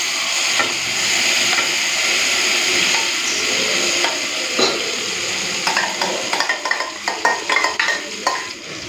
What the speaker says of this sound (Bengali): কালো জিরেটা ভাজা ভাজা হয়ে গেছে, এখন দিয়ে দেবো বেটে রাখা শিম